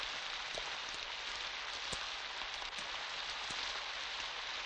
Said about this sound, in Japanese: この雨だ、気をつけろ。